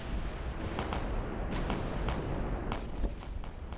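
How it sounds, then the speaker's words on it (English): Cannon and musket fire from the Battle of New Orleans rumbles on without a break, with deep booms and sharp cracking shots piling over each other in a loud, dense barrage. "American guns and muskets and cannons are relentless."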